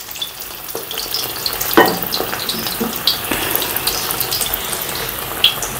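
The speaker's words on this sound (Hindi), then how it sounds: "ये पकोड़े जो हैं हमने दोबारा फ्राई करने हैं" Pakoras frying a second time in hot oil in a kadai, a close bubbling sizzle with scattered clinks and scrapes of a spoon, continuous with no talk.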